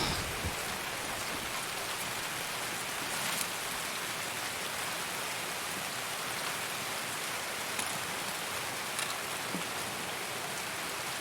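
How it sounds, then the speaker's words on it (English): Heavy, steady rain hisses across surfaces in a foggy video game raid, a dense constant patter with occasional louder drops, no voices. "Man, this foggy rain,"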